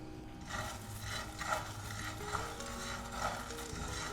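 White peppercorns, cardamom pods and fennel seeds dry roast in a pan, a faint soft rustle and scrape of spices being moved about, low and steady with a few gentle stirring strokes.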